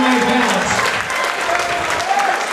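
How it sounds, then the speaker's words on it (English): Loud crowd applause fills an MMA venue right after a fight at a Glory Australia event, a dense continuous roar of clapping and cheering close up, with a faint tonal announcer or music line threading through. "Give a nice big round of applause."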